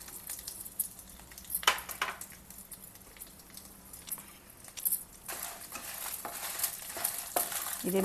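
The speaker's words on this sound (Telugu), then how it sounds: "నూనె కాగిన తర్వాత మిరపకాయలు వేయించుకోవాలన్నమాట" Dried red chillies frying in hot oil at medium flame, with a steady close sizzle and crackle broken by several sharp scraping stirs and pops, growing busier toward the end.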